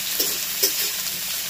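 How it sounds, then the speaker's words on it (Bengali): Chopped onion fries in a pan with a steady, close hiss and crackle, broken by a couple of brief stirring scrapes, with no talk over it. "আর এখানে বড় মাপের একটা পেঁয়াজকে কুচি করে রেখেছি। এবার এগুলোকে ভালো করে ভেজে নিতে হবে।"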